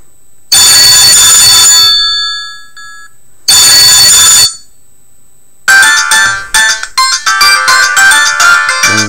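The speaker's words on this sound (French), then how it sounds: "on va personnaliser la sonnerie pour vous faire voir le son de la sonnerie qui est très très fort" A Mobiho-Essentiel Clap Luxe big-button mobile phone plays a very loud ringtone at close range: two bright electronic ringing bursts with a pause between them, then a busier melodic ring pattern. No one talks.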